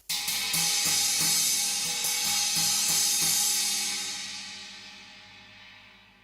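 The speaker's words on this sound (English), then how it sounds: "Then I have my Novo 20-inch 2002 China over here" A Paiste Novo 20-inch 2002 China cymbal is struck several times in quick succession, a loud trashy wash that builds and then decays over several seconds, played close and alone.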